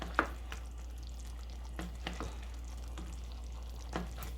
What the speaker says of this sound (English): you just want to just take the gravy and just spoon it over top of your pork chops